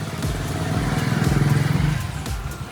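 Honda Activa scooter engine idling close by after starting, a steady low putter with a faint rhythmic pulse that holds for a few seconds and eases slightly toward the end.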